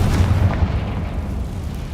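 Deep, rumbling blasts from Bombarda and Confringo explosion spells in the Hogwarts Legacy video game roll on steadily, a dense low boom that fills the whole stretch without a clear break.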